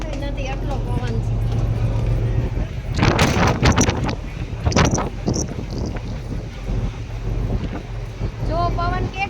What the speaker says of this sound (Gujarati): જો પવન કેટલો છે, ઉડે છે